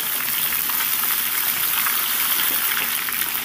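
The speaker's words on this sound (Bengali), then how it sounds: "এবার একসাথে নেড়ে চেড়ে আমি সুন্দর করে একটু ভেজে নেব।" Diced potato and carrot fry in a pan for vegetable khichdi, giving a steady, dense sizzle with a soft hiss throughout and no talking.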